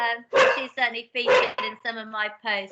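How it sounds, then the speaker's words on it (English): A pet dog barking in the background at home, a run of sharp yelping barks heard alongside someone talking, fairly loud and close. "Oh, sorry, that's my dog."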